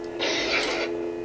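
A red-crystal Savi's handbuilt toy lightsaber with Darth Vader sound effects gives a single bright, crackling clash burst lasting well under a second over its low steady hum.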